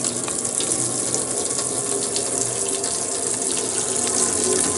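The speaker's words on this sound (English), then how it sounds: "I'll show you your flow and a bit of water coming through" Water runs from a household tap during a home walkthrough, a continuous close splashing rush that holds steady for several seconds, with no talking.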